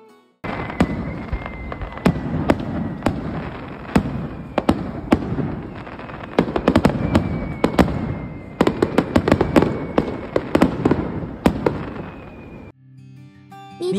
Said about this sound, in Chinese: 我们也找了个好位置观看烟花。